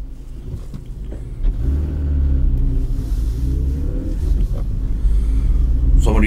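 A car engine hums steadily from inside the vehicle while driving, a low continuous rumble that rises slightly in intensity, with a voice speaking over it.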